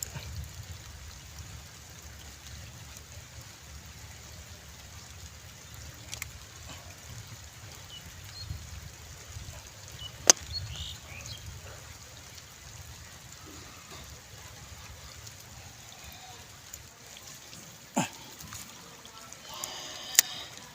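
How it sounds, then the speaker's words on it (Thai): Rain begins falling again on a stormy fishing outing, a soft, steady hiss with a few scattered louder drips standing out. "ฝนก็เริ่มลงเม็ดอีกแล้วครับ"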